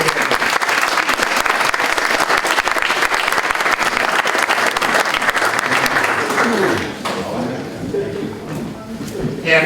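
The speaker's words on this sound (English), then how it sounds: "let's give a round of applause to the Honorable Dylan Fernandez" An audience at a community forum on immigration on Martha's Vineyard breaks into loud, sustained applause that fades after about seven seconds as voices begin speaking underneath.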